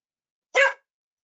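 A single short, sharp dog bark, close and loud against total silence.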